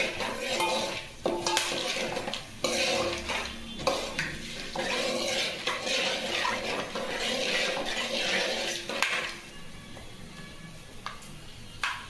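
Food frying in a pot for chicken biryani while a metal spoon stirs and scrapes it, with repeated clanks and scraping over a low sizzle, then quieter at the end.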